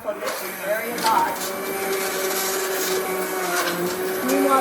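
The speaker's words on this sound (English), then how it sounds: "So now I'm gonna use my immersion blender" A handheld immersion blender whirs continuously through a pot of hot cooked potatoes and carrots, its motor tone wavering as the puree thickens, with a voice talking over the steady buzz.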